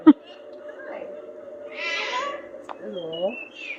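A parrot at Parrot Mountain, a bird attraction in Pigeon Forge, Tennessee, makes several close, clear calls and whistly vocal sounds with rising and falling tones, plus one sharp click near the start.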